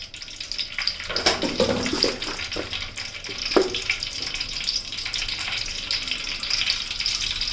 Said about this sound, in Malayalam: അതിന് ശേഷം കടുക് ഇട്ട് പൊട്ടിക്കണം.